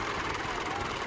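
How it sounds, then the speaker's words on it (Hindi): Two tractors, a Massey and a Ford, run their engines hard while pulling a stuck trolley free in the evening, giving a steady, dense, loud mechanical roar with no break across the short stretch. "2 ट्रैक्टर लगे ने, एक मैसी तो एक फोर्ड"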